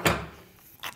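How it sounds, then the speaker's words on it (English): Cable gland being slid down a power cable for live event use, two brief close scraping swishes about a second apart. "Last thing is to slide our cable gland down"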